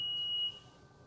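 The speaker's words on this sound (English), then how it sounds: "Are you setting the alarm?" A single steady high electronic alarm tone sounds for about half a second from a home security or door alarm system, then cuts off, leaving a faint lower hum in a quiet indoor room.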